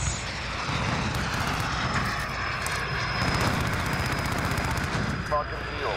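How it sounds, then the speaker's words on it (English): A VTOL aircraft roars overhead in a military shooter video game, a steady loud engine drone with bursts of gunfire mixed in, while players talk over it. "Bro, we need to shoot down that VTOL."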